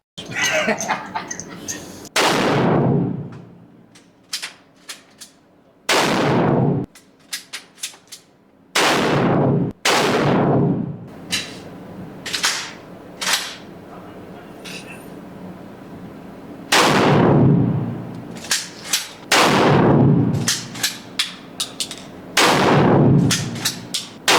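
Fully automatic weapons fire at a shooting range in Poland, long loud bursts and single sharp shots separated by pauses, with short stretches of voices between volleys.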